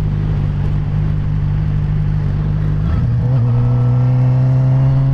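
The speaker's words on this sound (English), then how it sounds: "I'll pull in the clutch for y'all." Suzuki GSX-R 750 sport motorcycle engine on a road at sunset, a loud steady idle-like drone that rises into a higher revving tone about halfway through, with continuous wind rush.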